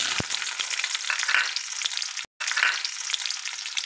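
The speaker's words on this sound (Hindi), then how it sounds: "अब इसी ऑयल में हम डाल देंगे कटी हुई प्याज।" Chopped onions crackle and sizzle in hot oil for restaurant-style kadai paneer, a steady hiss close by with light stirring, broken by a brief silent gap midway.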